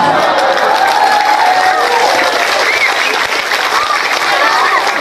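Applause and cheering from a crowd at an Islamic sermon gathering, steady and loud throughout, with a lively, dense clapping wash and some voices in the mix.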